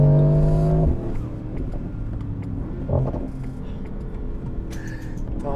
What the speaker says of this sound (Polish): jeśli zmienimy sobie tryb jazdy na sport i zredukujemy kolejne z aż 9 przełożeń